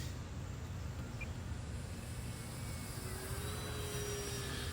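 An E-Flite Air Tractor RC plane flies at full power, a steady engine drone holding at a constant level with a faint rising whine, no voices.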